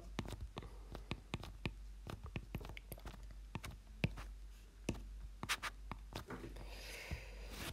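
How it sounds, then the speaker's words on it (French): Pen writing by hand on paper while working through a determinant calculation, a steady run of short scratchy strokes and taps, close and quiet, with no talk. "Donc, je l'écris."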